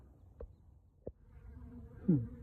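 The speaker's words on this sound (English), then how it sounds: "There are plenty of bees visiting it, coming in through the entrance here." Faint, scattered buzzing of honey bees flying close by at a hive in an apiary, with a couple of soft knocks and a louder buzz passing near the end.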